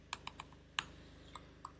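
Keystrokes on a computer keyboard while setting up a Node and Express project: about eight light, irregular clicks across a couple of seconds, close by and quiet, with no talking.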